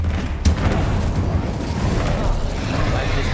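An Incendio fire spell cast in the Hogwarts Legacy video game: a sharp burst of flame early on, followed by a steady rumbling whoosh over continuous game background sound.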